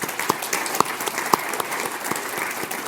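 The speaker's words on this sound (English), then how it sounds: "So big round of applause." A small panel audience applauds a speaker at a talk on imagined futures: soft, fairly distant clapping with a few sharper individual claps standing out over three seconds.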